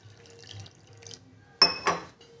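A little water is poured into fasting-day batter of finely ground flour with salt and curd, a brief close splash and trickle in two quick bursts after near silence.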